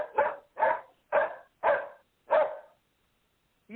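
Dog barking in a sharp series of five evenly spaced barks, close and fairly loud, then a short pause before a sixth bark begins.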